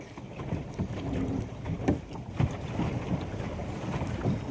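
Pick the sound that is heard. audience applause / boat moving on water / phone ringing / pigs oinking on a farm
boat moving on water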